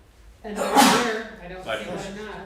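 A single sudden sneeze bursts out during a regular town council meeting, close and fairly loud, with people talking just before and after it.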